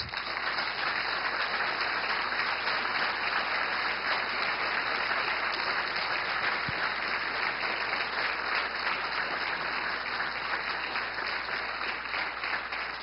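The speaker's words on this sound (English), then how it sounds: "I think this is the time to give them all a round of applause" Sustained audience applause at a county candidates forum for state representative, steady and dense clapping filling the room for about thirteen seconds without any speech.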